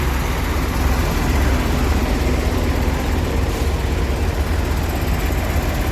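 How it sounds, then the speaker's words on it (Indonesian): Steady low engine drone of a PMTOH intercity bus idling or running, continuous and fairly loud with a broad rumbling body and no talk over it. "Masih sip mesinnya."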